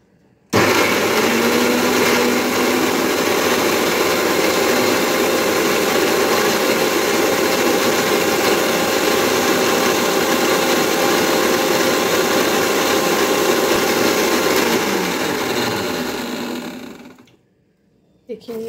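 Mixer grinder running steadily for about sixteen seconds, chopped pieces blending into a smooth paste in a mixing jar, a loud continuous motor whine that winds down near the end, with voices talking over it.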